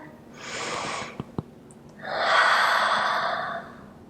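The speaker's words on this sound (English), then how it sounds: "One more big breath." During a beginner yoga flow, someone takes a long, deep breath close to the listener: a soft airy inhale, then a fuller, louder exhale.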